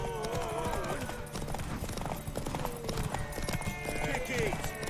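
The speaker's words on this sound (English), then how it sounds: "Want that horse, don't ya?" Horse hooves clip-clop steadily in The Witcher 3: Wild Hunt, mixed with game music and a voice talking over the rhythmic steps.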